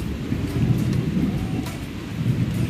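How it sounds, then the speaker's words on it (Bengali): A low, deep rumble of thunder rolls on for a few seconds, steady and distant, with no voices. "কিরম মেঘ ডাকছে দেখেছো?"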